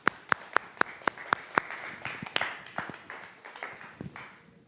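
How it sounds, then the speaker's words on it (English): A small audience claps for a speaker being introduced at a revolutionary organization's rally. Sharp, evenly spaced claps that are fairly close, then a softer, thinning patter that fades out. "Give a round of applause"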